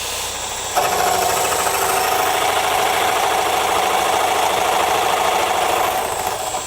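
A Milwaukee M12 Fuel cordless jigsaw cuts metal at its lowest speed with no orbital action, a steady close buzzing whir that starts abruptly and holds evenly throughout, with no talking.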